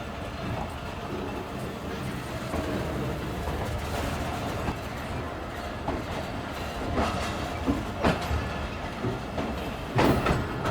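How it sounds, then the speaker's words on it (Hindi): From on board the Jaffer Express, the carriage rattles and clatters steadily as it crosses points from the platform line onto the main line, with rhythmic wheel clicks and occasional louder knocks, and faint talk underneath. "तो वो आगे ट्रेन हमारी ट्रैक चेंज करके आ रही है जी मेन लाइन की तरफ।"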